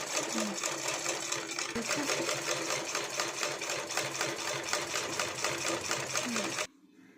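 Sewing machine stitching piping onto a blouse, one continuous fast rattling run close by for about six and a half seconds before stopping abruptly.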